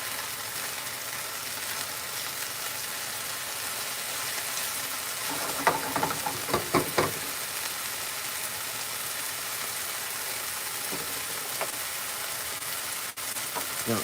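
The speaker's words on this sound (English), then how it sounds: "It's a vegetarian teriyaki stir fry, Tara." A vegetarian teriyaki stir fry sizzles steadily in a pan, a continuous broadband hiss with a brief cluster of clinks and scrapes midway, heard alone without talk.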